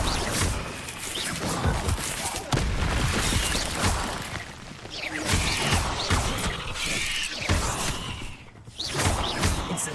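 A fire spell cast in the video game Hogwarts Legacy: loud, dense whooshing bursts and crackling crashes that keep coming for the whole stretch, layered with mechanical clatter and booming impacts.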